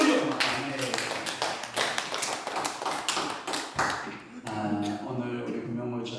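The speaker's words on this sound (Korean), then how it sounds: "박수로 영광." A Korean Sunday worship congregation claps in praise with loud, close, rhythmic handclaps in a quick steady beat, the claps thinning out toward the end as voices come in.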